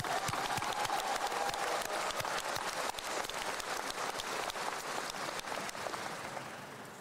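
Steady, dense applause fills a graduation commencement hall for the school orchestra, a continuous wash of many hands clapping at even loudness that tapers slightly at the end.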